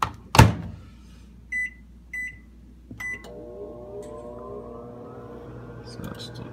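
A microwave oven heating oatmeal: a sharp clunk, three keypad beeps, then a steady low electric hum as it runs, with faint whispering over it.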